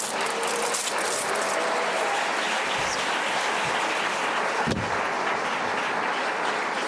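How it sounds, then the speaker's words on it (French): A studio audience applauds loudly for two guests, a dense, steady wash of clapping that fills the whole stretch without pause, with no talking over it. "applaudissez très fort mes deux invités"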